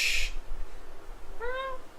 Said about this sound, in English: There's a cat in the apartment somewhere.